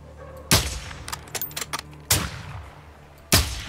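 Three sharp, loud gunshots from Call of Duty: Modern Warfare II, spaced a second or more apart, with smaller clicks and rattles between them.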